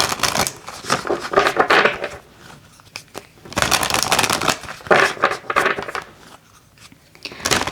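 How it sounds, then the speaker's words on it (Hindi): Oracle cards shuffled by hand in repeated bursts of dense papery riffling and flicking, close and moderately loud, with short quieter pauses between the bursts. "हम यहाँ पर आपके ऑरेकल कार्ड्स ले लें।"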